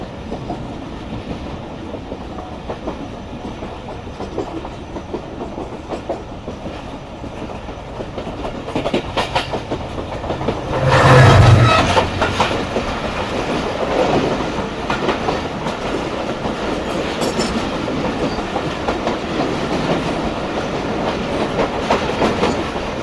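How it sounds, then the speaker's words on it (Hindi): The Pakistan Express rolls past on the opposite track, a loud sustained rumble with rhythmic wheel clatter that swells to a peak near the middle before easing into steady running noise, with no voices. "तो पाकिस्तान एक्सप्रेस आ रही है बिल्कुल हमारे सामने से"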